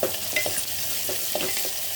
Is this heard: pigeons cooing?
no